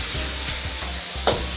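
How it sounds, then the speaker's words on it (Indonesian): Seasoning spices sauté in a pan for Meugang cooking, a steady close sizzling hiss with soft stirring scrapes and a brief sharper clatter near the end. "Kita tumis sedikit bumbu."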